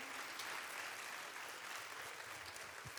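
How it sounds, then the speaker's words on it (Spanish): A church congregation applauds in a continuous, dense wash of clapping that stays steady from start to finish, heard at a distance and fairly faint. "Un fuerte aplauso al Señor en esta mañana."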